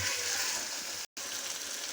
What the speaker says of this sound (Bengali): মশলা দিয়ে দিয়েছি কড়াইয়ে। এবার মশলাটাকে আমি ভালো করে নাড়বো এবং একটু ভাজা ভাজা করে নেব।